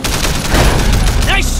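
A loud, continuous spray of gunfire during a car chase in Sleeping Dogs, dense automatic shots packed together with engine and road rumble underneath and a short voice at the end.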